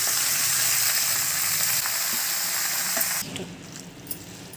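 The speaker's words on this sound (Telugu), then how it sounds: "కొంచెం ఆయిల్ వేసి పాలకూర వేద్దాం. కొద్దిగా ఫ్రై అవ్వాలి." Loud, steady sizzling of spinach frying in hot oil, which suddenly drops off near the end, leaving a few quiet clinks.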